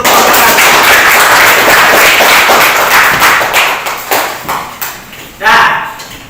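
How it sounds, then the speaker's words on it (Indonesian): A classroom of students claps for a group that has just presented, a loud burst of applause that thins into scattered claps and picks up again briefly at the end. "Kasih tepuk tangan dulu untuk kelompok 1"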